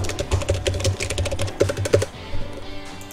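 Values and Enter are typed on a computer keyboard for AutoCAD in quick bursts of close, crisp key taps, with a short pause before a few final strokes.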